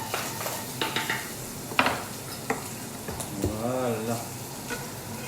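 Chopped onions fry in a pan for a chicken dish, with a close, steady sizzle. A utensil stirs and scrapes with several sharp clinks against the pan, and a voice says a word near the end.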